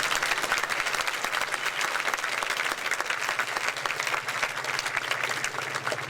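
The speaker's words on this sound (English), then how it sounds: "One more round of applause for them" Sustained applause from a school graduation audience honoring the custodial staff, a dense steady clatter of many hands clapping at even loudness throughout with no break.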